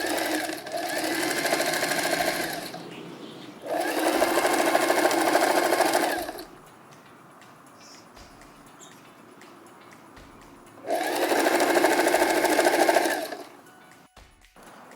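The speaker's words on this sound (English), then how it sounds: "I'm gonna make a long straight stitch all the way down" A sewing machine running a long straight stitch whirs loudly in three sustained bursts, each a few seconds long, separated by quieter pauses with light handling sounds.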